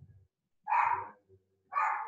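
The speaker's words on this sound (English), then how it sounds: "Sorry about my dogs." Dogs bark indoors: two loud, sharp barks close by, about a second apart, with a faint low whine before the first.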